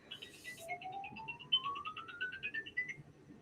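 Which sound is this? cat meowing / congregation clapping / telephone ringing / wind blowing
telephone ringing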